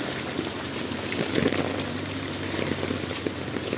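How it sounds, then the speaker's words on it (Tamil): Heavy rain driven by strong wind pours down in a stormy evening downpour, a dense continuous hiss with a low rumble underneath. "புயல் மழை மாதிரி அடிக்குது."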